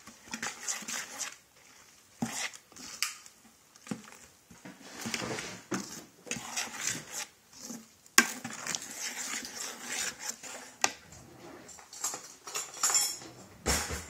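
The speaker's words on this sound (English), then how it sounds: "I'm going to stir this up first." A utensil stirs chopped lemongrass and galangal in a bowl for a Lao spicy algae salad, giving bursts of light clinks and scraping taps in an irregular rhythm with short quiet pauses between them.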